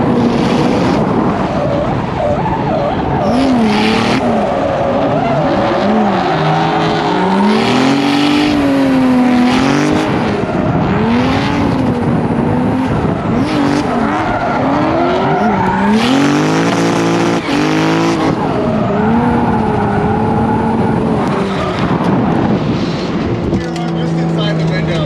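A drift car with a JZ engine is driven hard through a drift session, the engine howling and rising and falling in pitch, with bursts of tire squeal and skidding; people talk over the loud, continuous noise.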